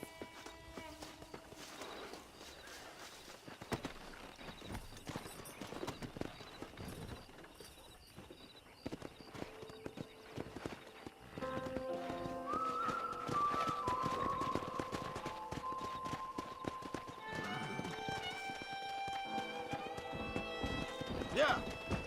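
Horses in the Red Dead Redemption video game: a clip-clop of hooves runs under in-game dialogue and music, with occasional whinnies and a steady mid-level bed of game sound throughout.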